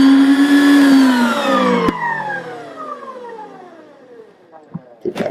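An electric mixer beats cornbread batter with baking powder, its loud steady motor whine running close before gliding down in pitch as it winds off, followed by a few light knocks.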